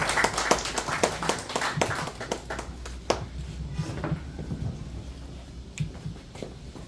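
Audience at a Korean patriotic group's leader inauguration ceremony clapping, dense hand claps that start loud and gradually thin out into scattered claps in a reverberant hall.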